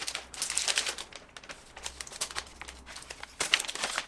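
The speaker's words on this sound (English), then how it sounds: "I'm gonna take the plastic off." Plastic wrap peeled off a new MacBook Air M1, giving close crinkling and crackling in irregular bursts, with one louder tearing rustle near the end and no talk.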